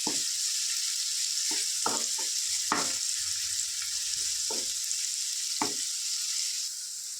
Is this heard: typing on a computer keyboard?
no